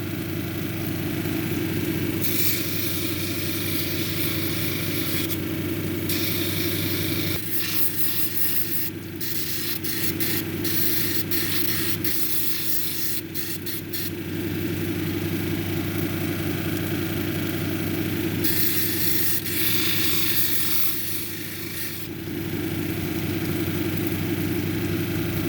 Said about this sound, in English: So I'm gonna grind that off with the 280 grit, and then I'm gonna break these edges right here.